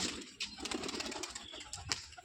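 Pigeons coo softly with a few brief wing flaps, heard close but faint against light background noise in a short stretch.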